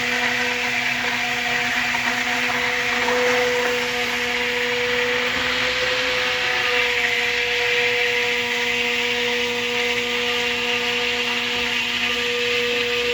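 Electric blender whirs steadily in a warm bowl of soap mixture, a continuous loud motor drone with a faint tonal whine running unbroken throughout.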